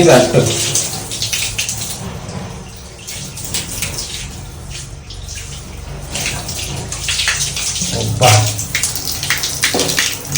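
Hot water runs from a tap in a steady, broadband rush that swells and eases slightly over the whole stretch, fairly close and continuous.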